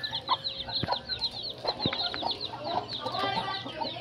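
Native chickens and chicks cluck and peep continuously at close range, with high chirping from chicks over lower hen clucks in an outdoor farm setting.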